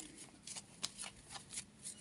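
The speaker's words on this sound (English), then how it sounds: "I'm going to divide the deck into 2. Shuffle these ones for yes." A deck of tarot-style cards being shuffled by hand, a run of soft papery riffles and slides repeating in a steady rhythm, close and quiet with no voices.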